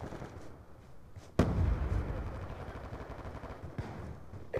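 A frag grenade goes off in Call of Duty: Black Ops 2, a single sharp blast followed by a loud rumbling roar that slowly fades, with ongoing battle noise around it.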